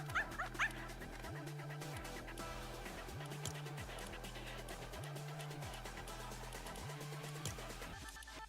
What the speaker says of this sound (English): Wait, the puppy is so cute.